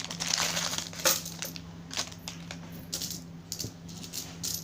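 Old coins, including 20-paise pieces, clink and rattle as they are handled, with scattered light metallic taps and jingles over a faint background hum, close and fairly quiet.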